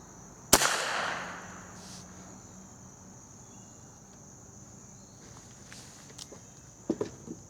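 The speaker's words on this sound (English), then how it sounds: "let's see how this board lights up with this number 12 shot" A .22 shotshell loaded with number 12 shot is fired from a pistol at a board: one sharp, loud crack near the start that rings off quickly, followed by a quiet outdoor backdrop of insects and a few faint clicks.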